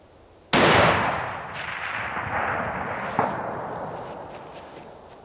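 A single loud, close gunshot from a Lane Precision Classic lightweight rifle cracks sharply, then rolls off in a long echoing decay outdoors, with a faint second knock partway through the tail.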